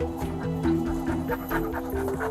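A dog pants and whimpers close by, quick rhythmic breaths broken by thin high whines, brief and moderately loud.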